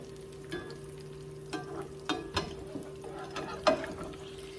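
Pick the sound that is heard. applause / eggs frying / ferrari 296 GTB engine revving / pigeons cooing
eggs frying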